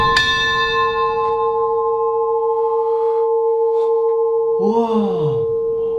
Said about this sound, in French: Ah, c'est une cloche.